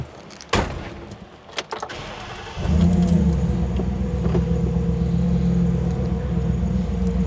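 Kindred Motorworks truck: a few door clunks and key jingles, then the engine starts at about two and a half seconds and settles into a loud, steady, close idle rumble.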